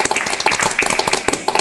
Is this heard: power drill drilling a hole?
no